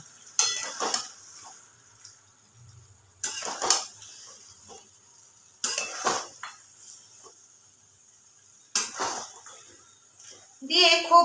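Cashew and yogurt paste stir-fried in a pan, with bursts of sizzling and scraping stirs recurring every few seconds between quieter gaps, close by, with a voice speaking over it.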